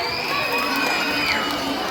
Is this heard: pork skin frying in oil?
no